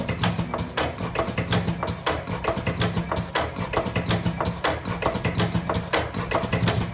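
A tobacco rolling machine filling cartons runs with a rapid, regular mechanical clatter, sharp repeated ticks and thumps over a low motor hum, close and steady throughout.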